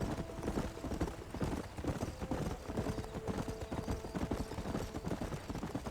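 A horse gallops in the Red Dead Redemption video game, its hooves pounding in a fast, steady rhythm for the whole stretch, with a faint voice underneath.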